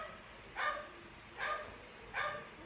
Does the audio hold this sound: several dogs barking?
yes